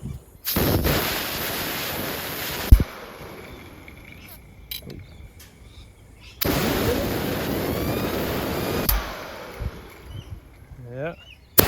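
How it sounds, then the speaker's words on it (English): Compressed air from an air gun blasts loudly over a turbocharger during a Pulsar G35-900 rebuild, in two long hissing bursts separated by a quieter pause with small knocks, and a voice comes in near the end. "Let's hit it with the air gun again."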